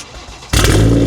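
A BMW M2 on FortuneAuto coilovers fires up: a quiet moment, then the engine catches abruptly and roars loud and close into a steady, powerful rumble.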